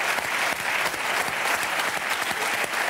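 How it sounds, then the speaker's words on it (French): An audience in a television studio breaks into dense, continuous applause, loud and close, with many hands clapping steadily for about three seconds. "Je vous applaudis très très fort."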